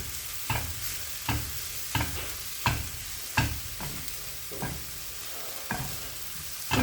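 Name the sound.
scrambling eggs with onions frying in a pan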